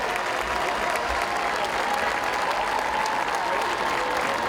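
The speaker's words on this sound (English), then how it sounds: "Let's hear a big round of applause for both Centerville communities and the Kettering Fairmont communities" Big crowd applause at a high school football game between the Centerville and Kettering Fairmont communities, a dense and steady roar of clapping in the stands with faint public-address sound underneath.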